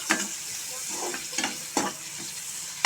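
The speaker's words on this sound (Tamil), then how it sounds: "நான் வந்து கடுகு, வெங்காயம், வெள்ளைப்பூடு, காஞ்ச மிளகாய் எல்லாம் போட்டுட்டேன். பொன்னிறமாக வரணும், இது வரைக்கும் வதக்குவோம்" Mustard seeds, onion, garlic and dried chili sauté in a pan with a constant sizzle, punctuated by several sharp spatula scrapes and clatters at irregular intervals, close and alone.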